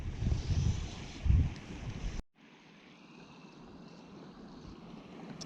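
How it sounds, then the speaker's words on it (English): Gusting wind buffets the microphone while trout fishing in northeast Iowa, a loud rumbling roar in the first couple of seconds, then a steady softer outdoor hiss after an abrupt drop. "That wind just caught me real good."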